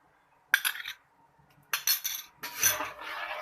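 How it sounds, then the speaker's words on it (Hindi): A spoon clinks and scrapes against a metal or glass vessel while yogurt culture is stirred into warm milk, in three separate bursts of rapid tinkling with short quiet gaps between them. "दही डाल के आपने इसको मिक्स करना है।"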